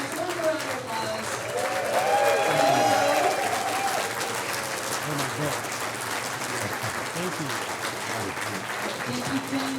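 A crowd at a conversation event with Kim Thayil and Krist Novoselic breaks into sustained applause, a loud, dense roar of clapping that swells and then holds, with some voices and cheers mixed in.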